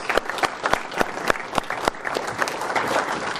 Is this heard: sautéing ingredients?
no